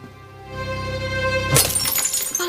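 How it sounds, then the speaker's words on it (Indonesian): A glass bottle filled with milk is dropped and shatters loudly in a sudden crash, with scattered glass fragments tinkling afterward, following a steady musical background. "yang dengan sengajanya menjatuhkan botol kaca yang berisi susu"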